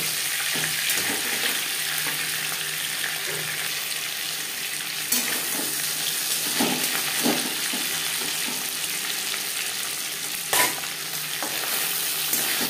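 After being flipped, a fish head keeps frying in hot mustard oil with garlic and onion, giving a steady crackling sizzle broken by a few sharp spatula knocks against the pan.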